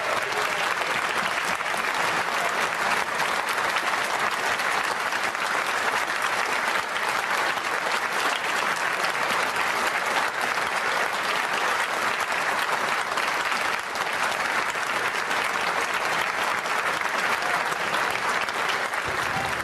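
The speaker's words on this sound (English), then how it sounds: "We generally do not allow applause in this chamber." Steady, dense applause fills a parliamentary chamber, a loud, even roar of many hands clapping without pause from start to finish.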